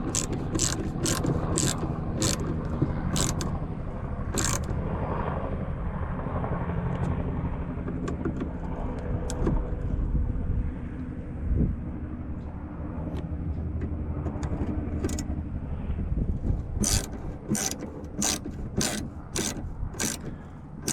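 Ratchet clicking in repeated bursts while bolts on a 1995 Chevrolet Silverado windshield wiper motor are tightened, close and clear over a steady low garage rumble, with a quick run of clicks at the start and another near the end.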